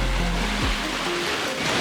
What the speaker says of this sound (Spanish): Después fuimos a conocer el mar Mediterráneo.